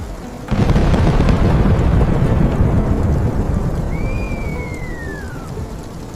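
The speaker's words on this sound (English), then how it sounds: "The rain did not stop." Heavy rain in an animated folk tale, a loud, steady downpour that kicks in abruptly and keeps hissing, with a low thunder rumble and a thin high tone sweeping across partway through.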